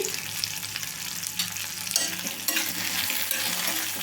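Cumin seeds sizzle in hot oil in a pan for a cucumber-tomato chutney, a steady close crackle and hiss with a few stirring scrapes and no voices.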